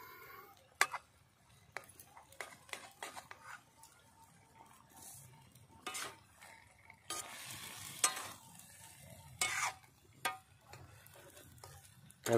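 Chicken being stirred and fried in a pan outdoors in a field, with scattered scraping stir strokes and short bursts of sizzling over a quiet background, fairly faint and without talk.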